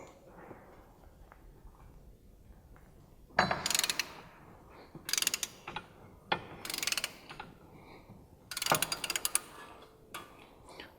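A ratchet wrench backs out 12mm triple-square bolts from the front wheel bearing of an MK5 GTI, giving five or six separate bursts of close, sharp clicking with short quiet gaps between them.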